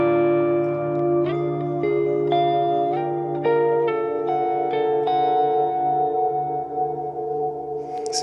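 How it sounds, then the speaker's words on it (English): Electric guitar notes are picked one after another through a Line 6 HX effects unit with reverb. Each note rings out and blends into a sustained, echoing wash, loud and alone, before decaying near the end. "So that's just a reverb coming from the HX effects"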